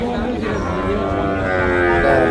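A loud, close calf moo, a drawn-out low bellow that rises slightly toward the end.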